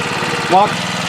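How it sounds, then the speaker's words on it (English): A kids' mini dirt bike engine idles close by with a steady, rapid putter, and a voice briefly cuts in over it. "I would highly suggest you let it just sit there and idle for a little bit."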